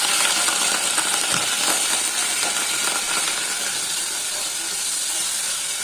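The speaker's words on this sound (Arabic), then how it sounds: "بس انا هنزل بالقوانص الاول اهي" Chicken gizzards sizzle as they are sautéed in a pan, giving a steady, bright hiss with fine crackling pops throughout and no talk over it.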